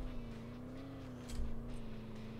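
A car accelerates in the Earn to Die Rogue game, its engine note droning steadily up front with a brief louder burst midway, loud and close, with no voices.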